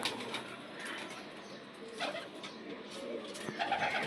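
Home-bred pigeons coo softly in a loft, with a faint wing flap and rustling mixed into a steady noisy background.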